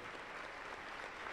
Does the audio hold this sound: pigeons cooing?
no